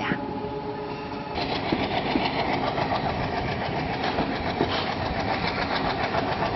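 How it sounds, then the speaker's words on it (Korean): A passenger train rumbles steadily along the line near Varanasi after an overnight run from New Delhi, a dense continuous roar with faint rhythmic clacking and a few brief tonal hums early on. "어젯밤 뉴델리역을 출발한 열차는 밤을 꼬박 새워 인도의 고도 바라나시 도착을 앞두고 있습니다"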